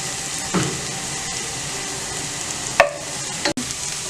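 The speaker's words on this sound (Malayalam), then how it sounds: "നമുക്കിനി 2 ടേബിൾ സ്പൂൺ മല്ലിപ്പൊടി ഇട്ട് കൊടുക്കാം. നല്ലതായിട്ട് ഇളക്കി ഒന്ന് മൂപ്പിക്കാം." A spoon stirs and scrapes coriander powder as it roasts in a pan of Kerala-style chicken curry, giving a steady low sizzle with a few sharp clicks of the spoon against the pan, close up and without talk.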